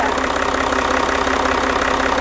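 A rebuilt Range Rover engine idles with a steady, even mechanical churn and a faint ticking, heard close and alone.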